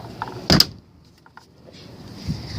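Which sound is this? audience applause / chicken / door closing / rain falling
door closing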